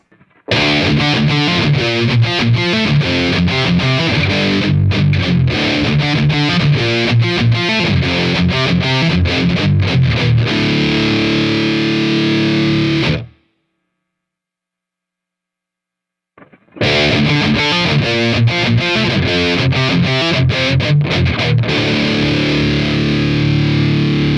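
A loud, distorted electric guitar strumming a driving rhythm with minimal stereo delay, cut by a few seconds of silence before resuming; the sound is full and slightly spacious.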